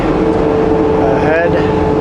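A semi truck hauling a light less-than-truckload load drops to a lower gear, its engine droning steadily up close with a brief rising tone partway through, under someone talking.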